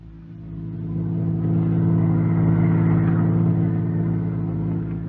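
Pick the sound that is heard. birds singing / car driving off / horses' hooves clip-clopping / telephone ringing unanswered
car driving off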